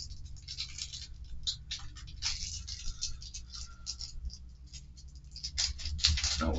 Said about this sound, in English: we got a little resealable plastic bag